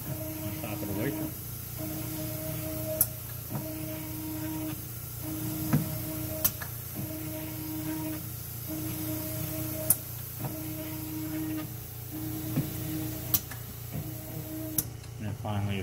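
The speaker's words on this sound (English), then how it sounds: "it's just going to blow hot nitrogen, heated nitrogen, on top of the wafer." An Ultron UH117 wafer dryer blowing heated nitrogen over a wafer, a constant hiss with a low machine hum, broken by regular beeping tones and sharp ticks at intervals.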